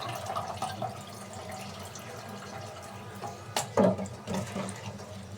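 Chickpeas being washed by hand in water, with faint sloshing, trickling and a few splashy bursts near the end, quiet and close.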